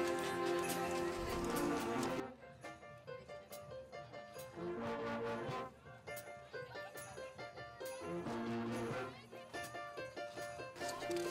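Rhythmic hoof clip-clop of horses walking in a holiday light parade, accompanied by bright tonal music from school instrumental ensembles playing throughout, with brief pauses between phrases.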